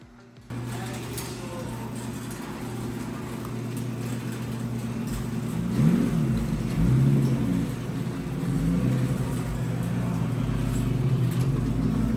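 A Nissan Cedric Y33 car engine comes in abruptly and keeps up a low rumbling idle, with a few moderate revs rising and falling around the middle, fairly close.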